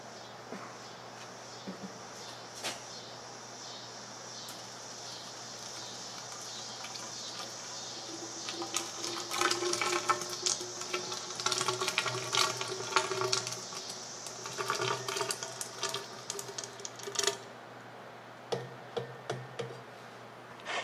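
Molten lead poured from a crucible into a pipe for a small oil rig downhole tool gives a faint, crackling trickle with scattered ticks and pops, swelling midway and tapering off, over a low steady hum.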